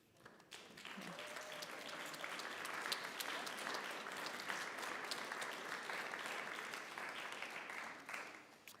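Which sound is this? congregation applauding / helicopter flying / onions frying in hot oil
congregation applauding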